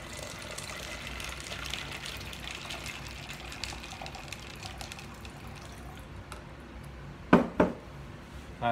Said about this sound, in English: And cover with filtered water.